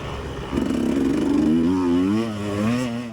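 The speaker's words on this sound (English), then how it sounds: "if you listen, the bike isn't running right." Dirt bike engine idling and blipping at low revs, stuttering and running rough, loud and close with an uneven rise and fall in pitch, heard alone without talk.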